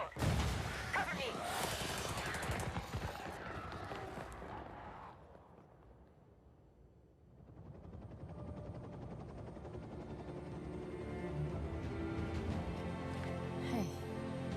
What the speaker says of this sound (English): Nomad, blow the door!